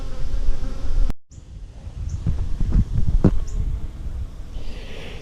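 Honeybees buzz densely around a beehive fitted for propolis collection, a steady close swarm hum that drops out for a moment near the start, then resumes with scattered knocks and taps; no one speaks.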